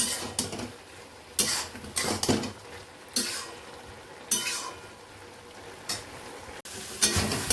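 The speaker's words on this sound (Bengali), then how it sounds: "আর এদিকে বাঁধাকপিটা রান্না চলছে" Cabbage cooks in a pan on a home stove, with bursts of frying sizzle and stirring scrapes coming in waves between quieter stretches, close and fairly loud, no talking.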